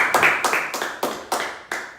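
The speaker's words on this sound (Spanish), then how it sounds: "Un aplauso fuerte al Señor" Rhythmic hand clapping at a Spanish-language church service, about six sharp, evenly spaced claps in two seconds, close and clear with no talk over it.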